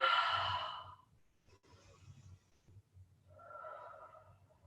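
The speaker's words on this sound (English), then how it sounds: "Breathing in and out here." During a downward-facing dog yoga pose, a person takes slow, audible breaths close by: a long, strong exhale, a quieter stretch, then a softer sigh-like breath, over a faint low hum.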